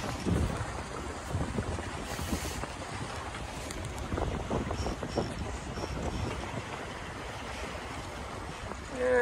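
Sailboat under autopilot running downwind at about 3 knots with its diesel idling near 1,000 RPM, heard as a steady low engine rumble mixed with wind buffeting the microphone and water wash, continuous throughout.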